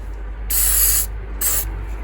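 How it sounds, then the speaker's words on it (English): Two bursts from an aerosol can of silicone spray on a Subaru Forester SG mirror part, a longer hiss followed by a shorter one, close and loud over a low background hum. "I have this silicone based spray that I'm going to spray"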